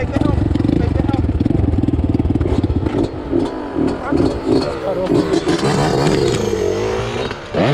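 A 2020 Bashan Storm 250 motorcycle idling in gear close up, its engine a loud, rough, rapidly pulsing rumble with some clatter, while people talk over it.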